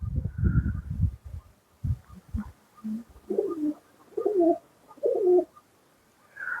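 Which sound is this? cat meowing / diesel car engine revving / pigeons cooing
pigeons cooing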